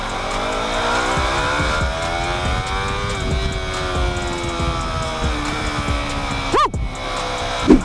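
A Yamaha R3 motorcycle ridden on a city street on a very hot day, its engine droning steadily with rising and falling revs, close and loud, with a brief whoosh and a thump late on.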